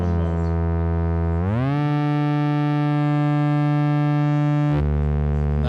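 A loud, sustained drone from a modular Eurorack synthesizer's self-oscillating filters, with rich harmonics, sweeping upward in pitch and holding steady, resonant and buzzy, then dropping back down near the end.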